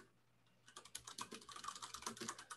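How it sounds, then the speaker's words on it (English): Rapid, close clicking of fingers typing on a computer keyboard during an online community meeting, starting after a quiet moment and continuing steadily in a dense patter, with no talk. "typing on mute"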